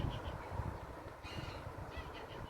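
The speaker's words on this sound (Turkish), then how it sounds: "iki tane daha karga boğulmaya başladı" Several crows caw in short harsh bursts at a distance, scattered over a steady low rumble of wind or traffic.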